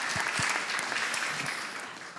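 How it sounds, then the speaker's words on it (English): A conference audience at an urban design event applauds in a steady wash of many clapping hands that fades slightly toward the end, heard alone without speech. "Let's just have a round of applause first, of course."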